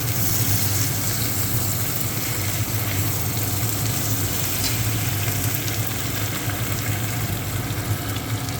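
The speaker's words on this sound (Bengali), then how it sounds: "এই দেখুন সিদ্ধ শুটকিটা ভেজে নেব।" Boiled dried fish (shutki) fries in a pan with a loud, steady, close hiss and crackle of hot oil that carries on without a break.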